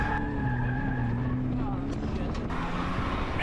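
A race car skids around a cone on an autocross course, with a sustained tire squeal and engine drone heard at a distance under a continuous wash of noise.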